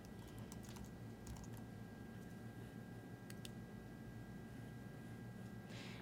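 Quiet keystrokes patter on a computer keyboard as a folder name is typed, arriving in short irregular clusters over a faint steady hum.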